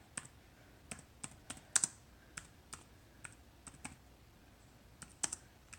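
Quiet, scattered clicks of typing on a computer keyboard: about a dozen sharp keystrokes spaced irregularly, in a calm room with no voices.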